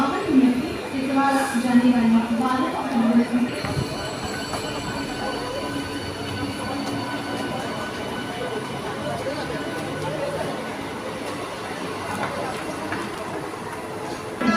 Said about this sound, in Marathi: तर मित्रांनो आपली ट्रेन आलेली आहे